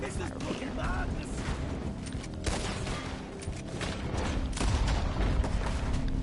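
Gunshots ring out in Red Dead Redemption 2, a few sharp cracks and booms scattered over a busy game backdrop, fairly loud against the ambience while a voice talks now and then.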